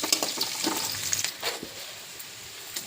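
Onion, chilli and spices fry in hot oil for a chicken curry, giving a steady crackling sizzle with brief stirring scrapes. It is moderately close and runs alone without talk, easing off toward the end.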